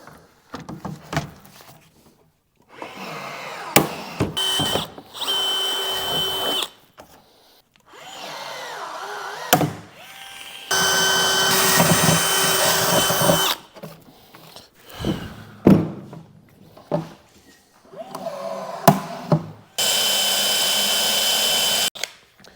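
Power drilling bolt holes on a John Deere in repeated bursts: a close, steady high whine that starts and stops several times, with short quiet gaps between runs.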